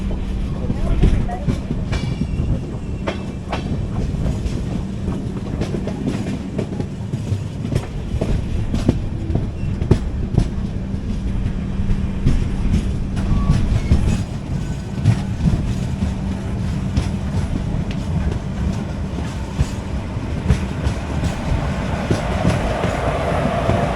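Indian Railways 22653 Nizamuddin superfast express rolling along rails, with a steady loud rumble and rhythmic wheel clicks throughout, a faint tonal hum and occasional clanks, no clear talk over it.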